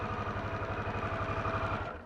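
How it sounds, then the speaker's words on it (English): A 2022 Harley-Davidson motorcycle engine with a rev limiter near 3,500 RPM runs close by with a steady, throbbing, rhythmic pulse that stays loud and even, then eases slightly at the very end, with no voices. "So you can't really rev that engine at stoplights."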